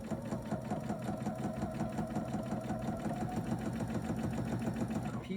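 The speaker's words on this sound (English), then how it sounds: "So just sew that all down, and you don't want to go too fast." A sewing machine runs steadily at moderate speed while stitching princess seams in velvet, a continuous close whirring drone with no pauses or talk.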